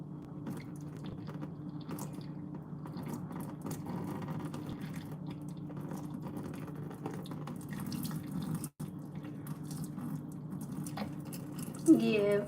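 Water pours steadily from a dish into a sink instead of through a strainer, a continuous close trickling and splashing flow lasting several seconds, with a brief break and a louder burst near the end.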